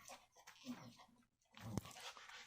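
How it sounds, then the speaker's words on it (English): A pet dog panting and whimpering close by, soft breathy bursts with a brief gap in the middle, no talking over it. "That's my dog."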